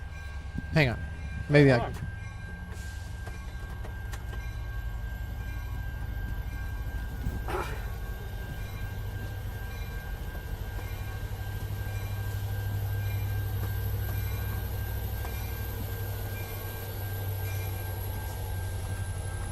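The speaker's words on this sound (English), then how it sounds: "The train came back." Train rumbles past at a distance as a steady low rolling drone, with a couple of sharp horn-like blasts near the start and people talking over it.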